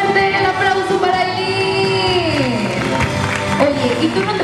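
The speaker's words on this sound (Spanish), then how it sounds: "Fuerte el aplauso para" Applause and cheering at a child's birthday party for Aylin, a lively crowd clapping and whooping loudly with voices calling out over the clapping throughout.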